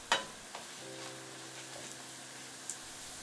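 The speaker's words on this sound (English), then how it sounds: "Leave the oil in the pan. Add the beef to brown it." Beef browning in hot oil in a pan over high heat, a soft steady sizzle with a faint clink near the start and a low hum underneath.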